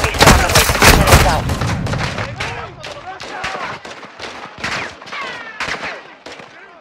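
Heavy gunfire in Call of Duty: Modern Warfare II, dense overlapping shots and booms loud at first, then thinning into scattered bursts, with voices talking over the fighting.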